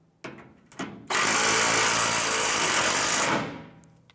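Power ratchet snugging down rear bumper bolts on a 2000–2006 Toyota Tundra: two short clicks, then a loud, steady whirring burst of about two seconds that winds down, close up with no talking.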